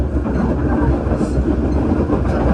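Loud steady rumble and rattle of the Matarmaja passenger train running on rails, heard close up from on board, with people talking over it.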